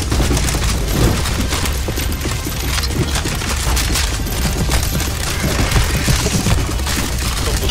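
Dense, continuous gunfire fills a CS:GO zombie escape match, rapid automatic bursts and booms overlapping into a loud, unbroken barrage with no pauses.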